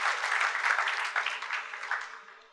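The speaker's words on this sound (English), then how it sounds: "So can we have a huge round of applause for Mr." Audience at a talk applauding a speaker, a dense crackling round of clapping that holds steady and then fades out near the end.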